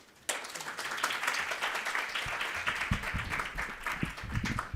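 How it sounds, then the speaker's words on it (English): Audience at a World Heritage Committee side event bursts into applause to welcome a speaker, starting abruptly after a quiet moment and continuing as sustained, dense clapping from a roomful of people. "please join me in welcoming the Director Hong with a big round of applause"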